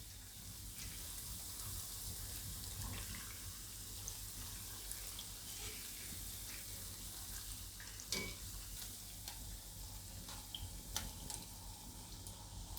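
Suvali, a Gujarati fried snack, sizzles in hot oil over a low flame, a steady hissing fry with occasional soft stirring clicks and bubbling pops, close and continuous.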